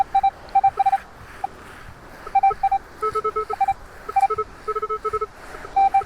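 Short electronic beeps and tones from a Minelab Equinox metal detector over a spill of coins, irregular bursts at varying pitches repeating several times, close and clear against quiet background.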